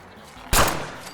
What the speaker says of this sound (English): These gunshots apparently alerted a small group of feral ghouls in the rubble